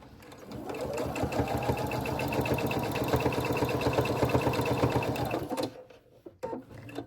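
A sewing machine runs steadily, stitching a small fabric keychain wallet pouch with rapid even needle strokes for about five seconds, then stops, followed by faint handling sounds.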